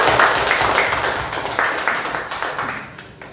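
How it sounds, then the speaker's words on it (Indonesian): A classroom of students clapping together, with a dense burst of applause that comes in rhythmic waves and slowly fades over a few seconds. "tepuk tangan buat semuanya"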